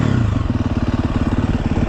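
A motorbike engine with a wet carburettor runs roughly outdoors, a loud, close, uneven chugging idle with rattling, sputtering pulses and no steady rise in revs.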